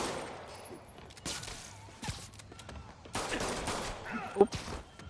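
Gunfire from armed thugs in the Marvel's Spider-Man video game, sounding as a few separate bursts and sharp shots spread across the moment, mid-loud with some scuffling between them.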